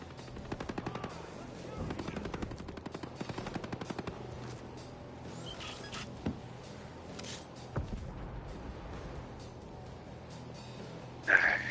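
Rapid bursts of automatic gunfire crackle in the video game Ghost Recon Breakpoint, several quick rattling volleys early on followed by scattered single shots and a sharp final crack, all fairly low in level with occasional voices.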